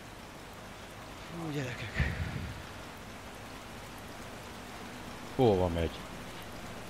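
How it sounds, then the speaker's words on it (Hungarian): Heavy rain in the rFactor2 racing game during an onboard Clio Cup race, a steady dense hiss running throughout, with someone talking briefly twice over it. "Szakad az eső."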